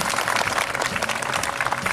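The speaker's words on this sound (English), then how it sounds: "How about a round of applause for the world of Tangled?" Crowd applause at a Disney Festival of Fantasy parade costume preview, a steady dense wash of clapping from many hands filling the whole moment without pause.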